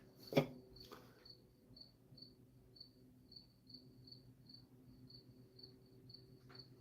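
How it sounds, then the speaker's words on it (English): Crickets chirp in a steady, evenly spaced rhythm, a faint, high, thin pulsing that repeats about twice a second in a quiet room, with a couple of brief knocks near the start. "You probably have your own crickets. There are a lot of crickets here."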